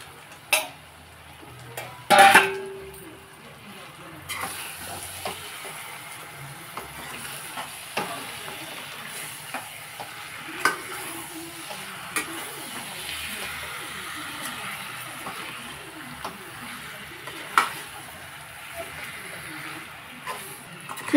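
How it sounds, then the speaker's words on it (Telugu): Half a kilo of chicken is stirred into a curry pan over ginger-garlic paste, with a soft sizzle under scraping spatula strokes and occasional sharp clinks of metal on the pan, close by; a voice speaks briefly. "చికెన్ వేసి శుభ్రంగా కలుపుతున్నామండి."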